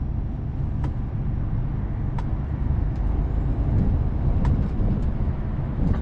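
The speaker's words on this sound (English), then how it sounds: "Pretty heavy traffic on the M60 at the moment." Dense motorway traffic on the M60 heard from a Mercedes 2548 truck cab, a steady low roar with several short sharp hisses of truck air brakes.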